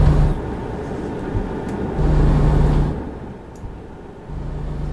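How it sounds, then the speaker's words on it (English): A truck engine runs loudly inside the cab with a deep, heavy rumble that swells and eases in level across five seconds, with no voices. "Probably turn down the truck a little bit. It's kind of loud."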